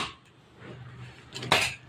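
A metal kadai set down on the stove and wiped, with a soft scrape followed by a sharp clank of metal near the end.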